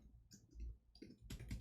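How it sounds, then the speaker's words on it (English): Bursts of quick clicks come from a computer keyboard being typed on rapidly and roughly, faint and close, arriving in short irregular clusters with no voices. "I'm just like banging on the keyboard"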